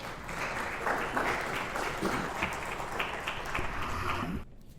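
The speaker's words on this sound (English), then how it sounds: "Please welcome him to the stage with a round of applause." An audience at a conference applauds a speaker coming to the stage, a dense, steady round of clapping that cuts off abruptly near the end.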